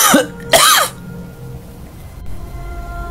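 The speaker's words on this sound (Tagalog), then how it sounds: "Totoong ubo yun." A person coughs twice in quick succession, loud and close, followed by a quiet room tone with faint background noise and no talking.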